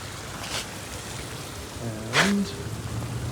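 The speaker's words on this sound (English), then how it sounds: "hot lava water feature." Garden water feature with steady splashing and patter of falling water, with a couple of brief louder sounds rising over the constant spray.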